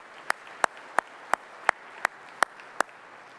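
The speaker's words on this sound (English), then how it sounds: "I want to give them one more round of applause." Sharp, evenly spaced claps ring out one after another, about eight in a row, fairly crisp against a quiet background, at an award ceremony.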